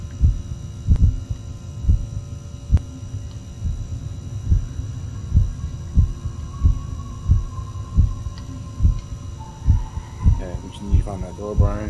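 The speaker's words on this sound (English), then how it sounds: "now I heard some sort of heartbeat" A heartbeat pulses in the Backrooms video game, regular double thumps about once a second over a low steady hum, with voices talking near the end.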